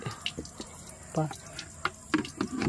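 Water splashes into a basin for washing the air cleaner of a Honda CB 125 motorcycle, in faint, irregular trickles and splashes that swell near the end.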